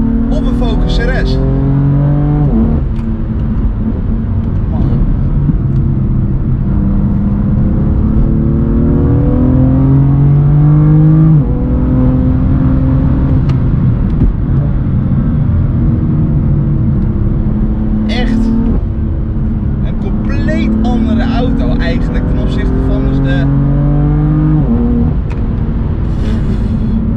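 A BMW M4 CS with an Akrapovic exhaust revs and drones loudly and close throughout, its pitch rising and falling in repeated pulls, with someone talking over it.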